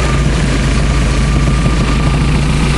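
A 2008 Mercruiser 3.0 liter marine engine idles loudly and close by, a steady low rumbling drone with an even, unbroken hum and no voices over it.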